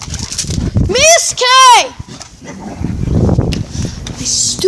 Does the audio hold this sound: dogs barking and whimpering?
yes